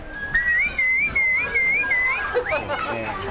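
A sharp two-tone mouth whistle used as a gathering signal warbles rapidly up and down, then slides in a short rising call, with faint background chatter.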